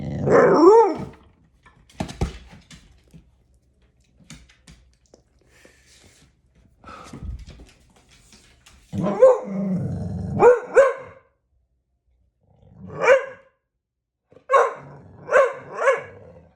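A dog barks and growls in loud, separate bursts, with quiet gaps between them and some whimpering, recorded close by in a quiet room.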